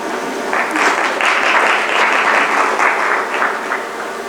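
Audience applause at a motivational speech at a CXO cybersecurity event, a few seconds of scattered clapping from a modest crowd that swells, holds, then thins out.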